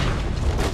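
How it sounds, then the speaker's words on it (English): Black powder barrels blowing up during naval combat in Assassin's Creed III, a brief, loud, deep boomy rumble that fills the moment without any talk. "it gives us a chance to do sort of ancient exploding barrels"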